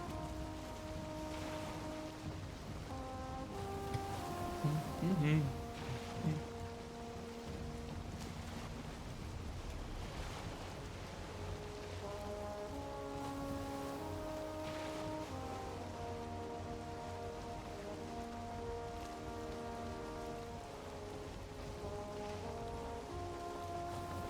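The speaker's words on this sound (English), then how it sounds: "It's literally because we went through swamp and it's always raining in swamp." Steady rain falling in a swamp in the game Valheim, a continuous soft patter with gusts of wind, heard under sustained tonal game music notes, no talking.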